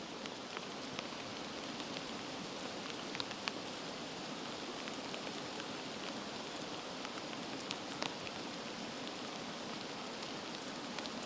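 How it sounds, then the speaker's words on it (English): Rain patters steadily on a tent tarp at a camp with a fire and a dog nearby, an even hiss of light to medium rainfall with scattered sharper drops striking close overhead, no voices. "I hope you can pick up the sound of the rain."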